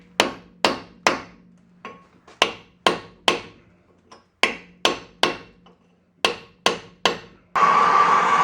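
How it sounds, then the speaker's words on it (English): Repeated heavy hammer blows strike a seized front brake rotor on a Mazda 3, about a dozen sharp metallic impacts in an uneven rhythm, close and loud, before a burst of hissing spray at the end. "we're hammering it out"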